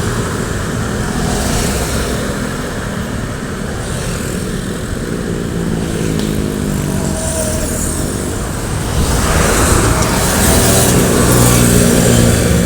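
A Mercedes-Benz bus with a Laksana coachwork body, running an intercity route, drives past on the road. Its engine drone and tire roar build steadily and grow louder toward the end as it comes close, with no talk over it.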